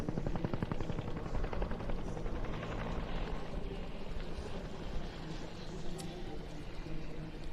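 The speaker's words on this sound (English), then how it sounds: "it's a helicopter that was developed for the United States as a medical evacuation and general utility helicopter" A UH-1D utility helicopter's continuous rotor thumping and engine roar fills the whole stretch, steady and fairly close, at an airshow.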